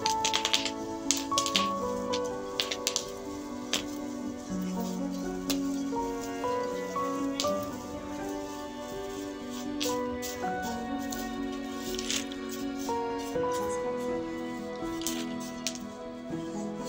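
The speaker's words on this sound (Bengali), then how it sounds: "এভাবে আরও একটু ভুট্টা দানা নিয়ে ভেজে নিচ্ছি" Corn kernels roast in hot sand for oil-free popcorn, with dense, rapid crackling and gritty rustling across the whole stretch, close and steady under a faint tonal hum, and no one speaking.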